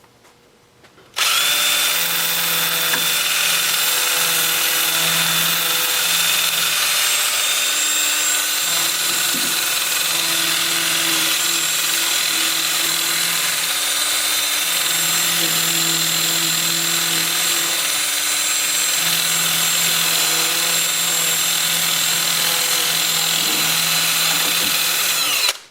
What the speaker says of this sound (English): I'll switch to my 2-inch disc starting at 80 grit. I'll have the lathe spinning in reverse at about 390 RPM.